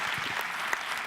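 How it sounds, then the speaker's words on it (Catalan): Steady applause from a crowd, a continuous wash of clapping with no voices over it. "Doncs pel Dani, per l'Eric i per en Biel, un fort aplaudiment, sisplau, per aquest primer grup"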